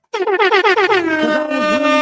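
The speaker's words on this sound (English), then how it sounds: "I gotta give you air horns" A rapid series of loud blaring air horn blasts, pulsing at first and then held as one long honk, close and piercing.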